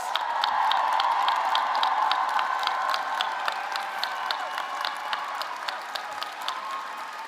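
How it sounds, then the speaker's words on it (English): Large audience at a 2024 Drexel University nursing and health professions commencement applauds its graduates, a dense, sustained wash of clapping with scattered cheers that slowly tapers. "let's have one more round of applause for all of our graduates"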